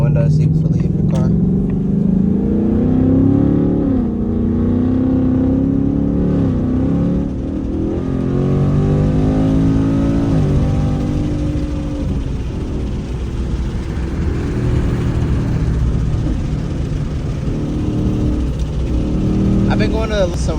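A Ford S650 Mustang GT engine revs and accelerates hard in track mode, its pitch climbing and dropping through the pull, close and loud with a voice now and then.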